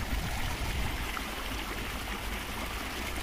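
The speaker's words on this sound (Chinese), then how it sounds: "哗啦哗啦的还在流水在浇呢" Irrigation water runs steadily through a stone-slab-covered canal in a small town beside the Yellow River, giving a faint, even, continuous burbling rush with no voices.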